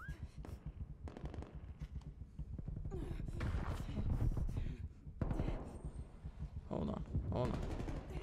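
In the video game Prop Hunt, bursts of rapid gunfire rattle in quick repeated volleys, moderately loud, interleaved with a player's breathing and talk.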